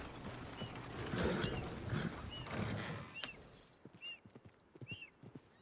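Horse hooves clip-clop at a steady walk amid a busy bed of ambience, followed by a few short snorts and whinnies, moderately close, in the video game Red Dead Redemption 2.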